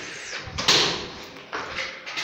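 A Blindex tempered glass door being opened, with a soft scrape and then a louder sliding rush near the start, followed by two quieter brushing swishes. The sounds are close and there is no speech.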